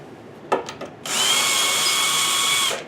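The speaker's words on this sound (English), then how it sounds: "So I'll get my drill and we'll see how this goes." A few light clicks and taps, then a power drill whirs at a steady high pitch for about two seconds before stopping, while opening screw holes on vintage Altec Seville speakers.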